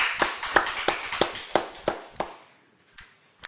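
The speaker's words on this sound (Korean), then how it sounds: "우리 하나님께 영광의 박수 한번 올려드리겠습니다" Sharp, close claps in a church at a Friday late-night prayer meeting, a slowing series of about ten distinct hand claps that thins out and fades, with one last clap at the end.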